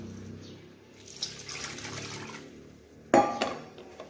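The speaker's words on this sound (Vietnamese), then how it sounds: "Bây giờ mình sẽ cho nước vào đây nha." Water is poured from a tap or jug onto flour dough in a bowl before it is washed and kneaded for a vegetarian mock beef sausage, with a burst of splashing and clinking near the end after softer background handling.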